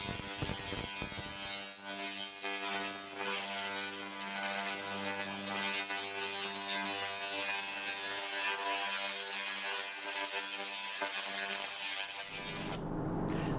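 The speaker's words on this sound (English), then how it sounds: "I've broke out our laser cleaner and we're going to see how it cleans" A laser cleaner works over the rusted, previously repaired, hole-riddled body panel of a 1963 Buick Riviera, giving a loud, steady electrical buzz with hum and hiss that runs unbroken before cutting off near the end.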